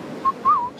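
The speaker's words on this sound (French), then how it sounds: "En sifflotant." A person whistles a few short, clear notes: a brief held tone, then a longer rising and falling phrase, heard faintly at a pétanque final amid quiet ambient crowd noise, with no talking.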